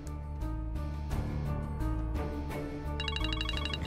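A telephone's electronic ringtone starts near the end, a bright repeating trill that sits over steady background music in an indoor domestic drama scene.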